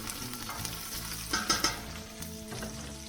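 Onions sauté in a pot for vegetable beef soup, a faint steady sizzle beneath soft scraping and clinking as a utensil stirs them a few times.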